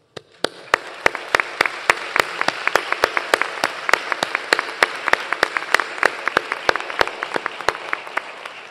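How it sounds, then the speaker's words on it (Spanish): Applause at the opening of a family gathering, with a rhythmic clap that starts with a single sharp hit, builds into a steady beat of loud, distinct claps over a softer crowd patter, then thins out toward the end. "lo único que os pido es un aplauso"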